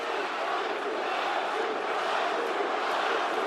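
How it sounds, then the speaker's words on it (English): A large wrestling arena crowd in Philadelphia roars and cheers in a steady, dense wall of noise that holds loud and unbroken throughout. "And the crowd is behind Jacob Fatu. Philly is loving it."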